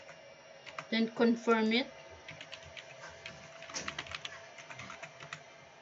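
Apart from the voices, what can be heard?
typing a password on a computer keyboard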